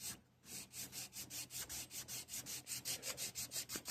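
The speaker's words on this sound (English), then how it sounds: "So right now I got this 600 grit sandpaper with a little bit of oil." Hand sanding of a Colt Commander 1911 pistol frame with oiled 600 grit sandpaper, a steady run of rhythmic back-and-forth rasping strokes, close and fairly quiet.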